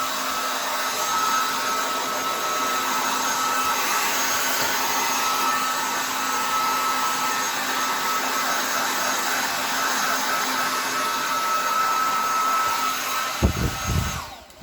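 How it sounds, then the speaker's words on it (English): Hair dryer blowing steadily on a Shepsky puppy after its bath, a continuous loud whooshing whine held for many seconds, ending with a few brief handling thumps. "he's not too fond of getting his front blow dried"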